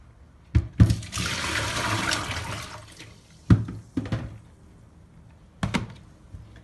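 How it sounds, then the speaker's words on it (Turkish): Liquid from a jar of pickled vegetables is poured off in a steady splashing stream lasting a couple of seconds, framed by sharp knocks and clatters of the container before and after, close by with no talking. "ya şu suyunu dökelim bir."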